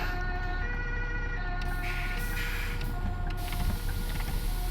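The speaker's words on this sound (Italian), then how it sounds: "un'ambulanza che per poco mi ammazza, bene." Ambulance siren from the Bus Simulator 16 driving game, a steady wailing tone held loud and close throughout with no talk over it.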